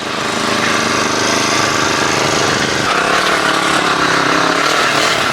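A small engine-powered kolpani weeder runs in a field, its loud, steady buzzing motor droning close throughout with a slight shift in pitch midway.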